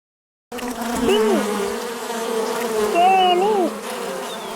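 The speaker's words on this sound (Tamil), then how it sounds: "Bee." A bee buzzing steadily and close, with a continuous drone whose pitch swoops and wavers twice as it moves about, alone without any voices.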